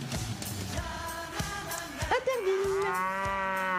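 A cow moos loudly and up close, one long drawn-out low call that swells toward the end, with faint voices beneath it.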